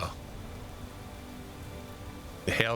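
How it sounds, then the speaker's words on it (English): Hail falls in the video game Space Engineers as a dense, steady patter of noise that holds at an even level throughout, ending with a brief louder tonal burst. "The hail comes, I'm probably going to get hurt."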